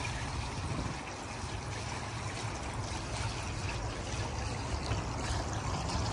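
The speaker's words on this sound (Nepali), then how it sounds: "यो स्विमिङ पुलबाट चाहिँ आवाज आइरह यो पानीको" Water flows from a swimming pool in Toronto, trickling steadily in a soft, continuous wash, faint and even, with no voices.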